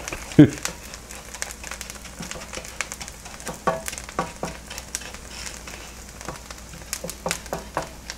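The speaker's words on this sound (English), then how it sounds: "So you're actually frying the rice" Soft crackling and sizzling from rice frying in a pan, with scattered clicks and scrapes of stirring throughout.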